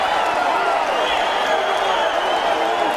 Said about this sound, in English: That's got this crowd going around.